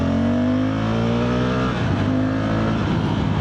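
A motorcycle engine revs and accelerates hard, loud and close, with strong harmonic engine tones climbing in pitch and settling again, a punchy, torquey throttle response heard alone without talk.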